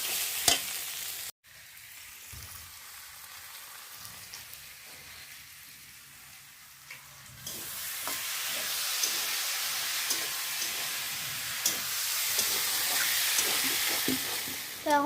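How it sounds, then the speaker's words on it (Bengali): Spices are stirred into fried pumpkin in a pan, with quiet scraping and faint sizzling at first, then louder, steady frying and crackling as the mixture cooks. "কুমড়ো ভাজা হয়ে গেছে, মশলাটা দিয়ে দিই"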